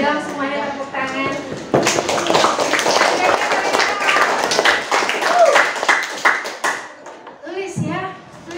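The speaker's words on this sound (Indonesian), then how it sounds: "Boleh dong semuanya tepuk tangan." School orientation audience clapping hands: a dense, sustained burst of applause lasting about five seconds, preceded and followed by talking voices.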